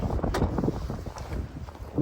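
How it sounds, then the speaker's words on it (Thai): Strong outdoor wind buffets a handheld phone microphone, producing loud continuous rumbling gusts with no speech. "ฟังเสียงลมไปด้วยกันพี่ๆเพื่อน ๆ"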